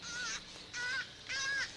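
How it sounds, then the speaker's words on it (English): A crow caws three times from a banyan tree, harsh drawn-out calls evenly spaced and fairly close, with quiet between them. "A crow."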